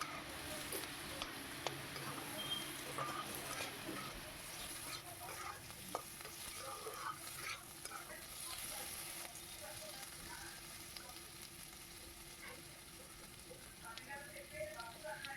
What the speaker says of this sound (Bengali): লবণটা দিয়ে আবার ভালো করে নেড়ে চেড়ে ভেজে নিচ্ছি।